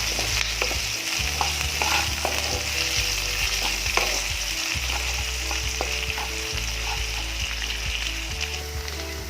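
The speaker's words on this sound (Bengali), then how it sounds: "পেঁয়াজটাকে হালকা একটু ভেজে নেবো আমি।" Chopped medium onion frying lightly with a pinch of salt in a pan, a steady loud sizzle with repeated stirring scrapes and clanks running throughout.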